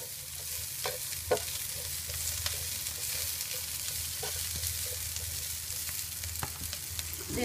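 Cabbage and other vegetables stir-fried in a pan for yakisoba, a soft, continuous sizzle broken by scattered scrapes and clicks of a spatula, with no voices.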